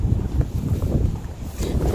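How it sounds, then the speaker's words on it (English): Gusty outdoor wind at night buffets the microphone in rough, low rumbling bursts, loud and close, with no voices. "Oh, it's windy out here."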